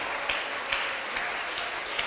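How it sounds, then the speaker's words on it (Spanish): Church congregation applauding together, a steady dense wash of clapping with a few sharper peaks, sustained and fairly loud throughout. "Dale un aplauso con toda tu alma al Rey de la Gloria"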